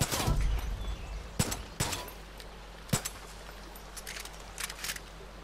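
Gunfire in Far Cry 5, fired near an RV: a burst of shots up front followed by several separate sharp reports spaced a second or so apart, then lighter clinks and rattles, with no talk over them.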